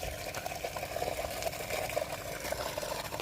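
Water flows from a newly drilled borewell, giving a soft, continuous splashing and trickling rush. It is fairly faint and steady, with no talking over it.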